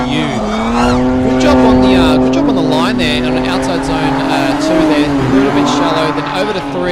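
A naturally aspirated Ford AU drift car screams at high revs through a drift championship qualifying run, its loud engine note rising and wavering continuously with tyre noise, while a commentator talks over it.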